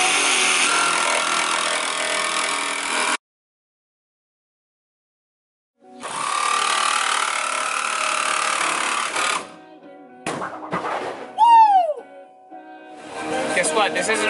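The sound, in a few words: saw cutting through window material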